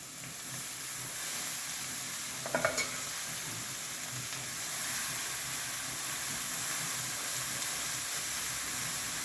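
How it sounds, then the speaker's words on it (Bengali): Fresh spinach hits a hot pan of frying potatoes and spices, raising a loud, steady sizzle and hiss with a brief stirring clatter early on. "আমি এবার পালংটা দিয়ে দিচ্ছি।"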